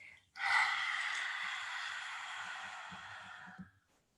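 A long, forceful breathy exhalation, the lion's breath of a yoga cat-cow sequence, rushes out loud and steady for about three seconds, then tapers off in quiet surroundings.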